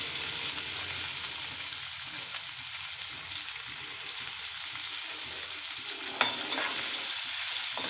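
Onions frying in hot oil with cumin seeds for an Andhra-style tomato chutney: a steady, bright sizzling hiss that holds throughout, with one brief scrape or click near the end and no voices.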